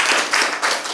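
An audience claps at the inaugural and installation ceremony of the Kasaragod district unit of the Karnataka State Writers' Association, a steady close wash of many hands lasting the whole moment with no talk.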